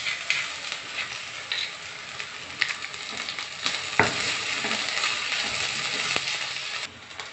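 Onions with ginger garlic paste fry for a vegetable biryani, a steady close sizzle with occasional spoon scrapes and clinks against the pan.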